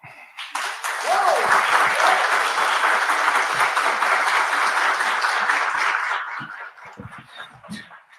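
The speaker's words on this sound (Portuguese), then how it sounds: "Mais alto, mais um pouquinho de palmas, parabéns." After a lecture by Ernesto Araújo at CCB-USA, the audience breaks into sustained applause that swells within a second, holds steady and then tapers off, leaving scattered claps and faint voices.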